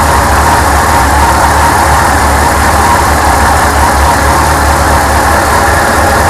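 A Yamaha FJR motorcycle engine idles after a throttle body sync, running loud and close with a steady, slightly uneven low rumble throughout.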